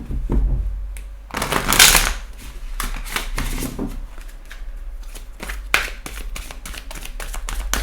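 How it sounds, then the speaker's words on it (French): Angel oracle cards being shuffled up close, brisk papery riffles and taps in quick clusters with a louder swishing burst early on, no voices. "On prend également une petite carte des anges de l'amour"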